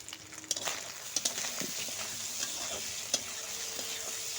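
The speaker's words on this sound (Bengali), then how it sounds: "মাছগুলো আমি ভালোভাবে ভেজে নিব সুন্দর করে" Small fish frying in hot oil in a karai, giving a steady, close crackling sizzle with occasional sharp pops and stirring clicks throughout, with no voices.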